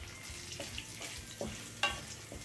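Turmeric goes into garlic and chillies frying in oil for a dhaba-style lasooni methi, a soft steady sizzle with faint stirring scrapes and a few clinks.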